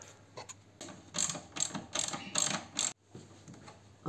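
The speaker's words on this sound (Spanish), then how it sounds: "y aflojamos este tornillo" Ratchet wrench loosening a screw on a Honda Civic IX 2.2 i-DTEC, a close, clear series of rapid clicking bursts repeating in short runs with brief pauses.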